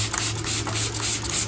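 Large spray bottle misting water onto one-coat plaster render, a close series of short hissing sprays with soft rubbing in between, fairly loud and with no talk.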